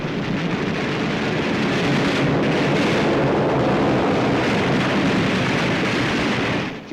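Anti-aircraft guns aboard a WW2 warship, the USS Yorktown, firing at an incoming torpedo bomber in a 1944 film: a dense, steady roar of rapid gunfire and blasts, loud and unbroken for several seconds.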